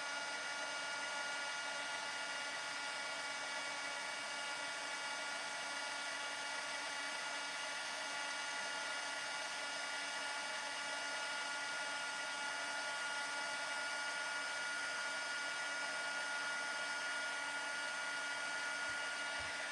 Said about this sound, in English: then I'm going to heat emboss our sentiment